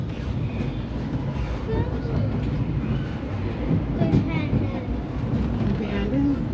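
Disneyland Railroad train rolling along its rails on the Grand Circle Tour, a steady close rumble and rattle of the carriages with a few faint squeaks and clacks, a voice speaking over it.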